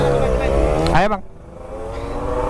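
A motorcycle engine with an oversized carburetor revs loud and close, its pitch climbing before the throttle snaps shut and it drops to a rough, uneven idle.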